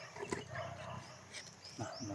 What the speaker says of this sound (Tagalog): May mga aso yan eh.